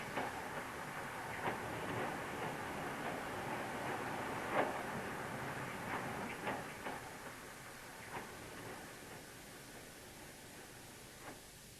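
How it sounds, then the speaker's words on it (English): A clay freight train from Torrington rumbles past at a distance in North Devon, a steady broad roar with faint rhythmic clacks of wheels over rail joints. "A clay train down from Torrington along the Tor"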